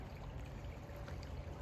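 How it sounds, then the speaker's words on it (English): Small stream of water trickling over rocks and sticks outdoors, a steady faint babble running continuously without breaks. "Just a little water going over some rocks and some sticks"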